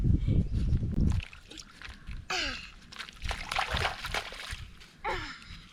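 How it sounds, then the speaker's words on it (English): Water splashes and sloshes at Elliot Falls, Cape York, in several bursts, near and lively, with brief pauses between, and a short voice at the start. "Good splashing."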